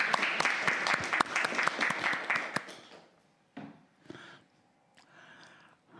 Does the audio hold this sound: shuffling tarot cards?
no